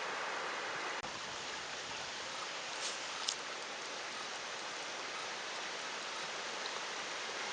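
Shallow creek water rushes steadily over rocks in a dense, even wash of noise, close and unbroken, with a faint knock or two.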